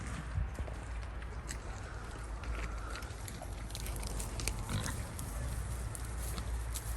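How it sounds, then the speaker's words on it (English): A pig chomping on a rat outdoors during ratting with terriers: faint, steady wet crunching and grunting against a constant noisy background, with no voices heard. "That pig is chomping the shit out of that rat."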